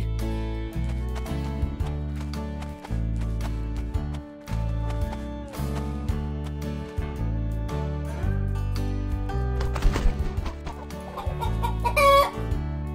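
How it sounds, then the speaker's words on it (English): A cartoon farm chicken clucks in short bursts toward the end, with a brief crow-like call, over continuous cheerful background music. "Chicken."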